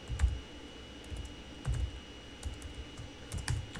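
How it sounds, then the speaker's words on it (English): Rapid typing on a computer keyboard, a quiet, close patter of soft key clicks coming in quick bursts with no talk. "You're typing too fast."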